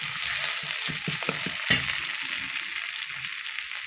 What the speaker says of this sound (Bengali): পেঁয়াজটাকে একটু ভাজা করে নেব